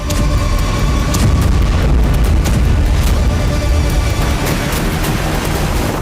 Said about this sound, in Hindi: इन सब के बीच इजरायल आसमान से भीषण बमबारी कर रहा है।